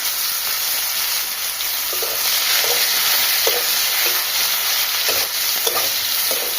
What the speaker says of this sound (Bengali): এবার পেঁয়াজগুলোকে প্রথমে দিয়ে দেবো তেলে,